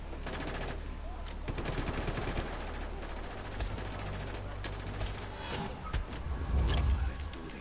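Gunfire breaks out across a city street in the open-world video game Just Cause 3, with rattling bursts and mechanical clatter spread over a steady background din.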